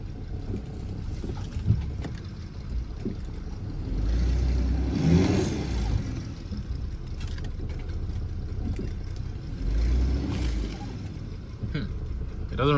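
A BMW E46 with a blown head gasket drives slowly in gear, its low engine rumble steady and close with a couple of swells, while people talk over it.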